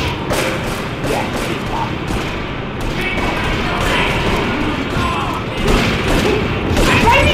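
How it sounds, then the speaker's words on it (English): Gunfire aimed at the player in Grand Theft Auto III, a dense, steady clatter of shots and thuds mixed with loud street and game noise, continuous across the moment. "Why are you shooting me now?"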